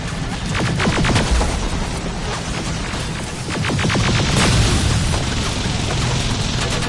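A heavy firefight in the video game Terminator Resistance: dense, continuous automatic gunfire with booming impacts that rattles on loudly and steadily for the whole stretch, with no talking.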